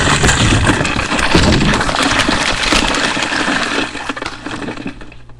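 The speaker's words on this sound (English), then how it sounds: "I broke the ice." Ice breaking in a video game, a loud crackling, shattering burst with a watery, rushing texture that stays dense for several seconds, then thins out and fades toward the end.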